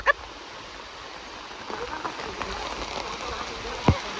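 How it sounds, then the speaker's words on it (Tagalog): Dense, steady heavy rain hisses across surfaces nearby at a river, a continuous wash of drops with a couple of brief sharper knocks. "Palakas na yung ulan."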